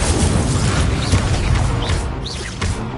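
The Incendio fire spell in Hogwarts Legacy erupts as a loud, sustained roaring burst with crackling and rumbling texture, filling the whole moment with no voices.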